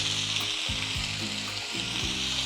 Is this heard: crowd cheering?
no